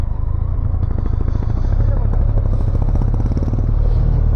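Six motorcycle engines rumble loudly and continuously nearby as they set off on an off-road route toward Umling La, a low throbbing drone that holds steady throughout.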